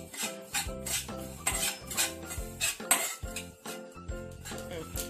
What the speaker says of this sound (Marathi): त्याच्यामध्ये तीळ पण भाजून घेऊया